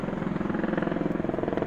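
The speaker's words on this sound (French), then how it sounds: "c'est l'hélicoptère de la gendarmerie." A gendarmerie helicopter flies overhead, its steady rotor thump loud and continuous throughout, with no talk over it.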